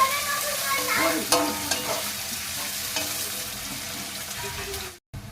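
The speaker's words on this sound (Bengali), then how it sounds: "এটাকে একটু ভালো করে নাড়াচাড়া করবো একটু ভাজা হবে হাফ ডান হলে" Chopped onions fry in a pan for a mutton kosha, a loud continuous sizzle with scraping stirring strokes near the start, running steadily until an abrupt cut just before the end.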